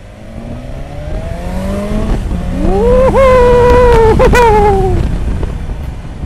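A 2020 BMW S 1000 XR motorcycle engine revs up to about 5000 rpm while riding through city streets, its pitch sweeping upward in a smooth, steady climb before easing off, loud and close with no talking.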